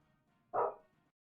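A pet dog somewhere in the house gives a single short, excited bark. It is faint and seems distant, with nothing else heard around it.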